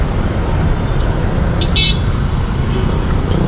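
Dense road traffic on Fifth Avenue in BGC, a steady loud roar of idling and moving vehicles close by, with a couple of brief horn toots partway through.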